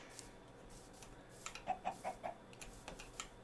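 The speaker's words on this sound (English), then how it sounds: "I hear a chicken." A chicken in the Minecraft video game gives a few short clucks in a quick run over a quiet background, fairly faint and alone.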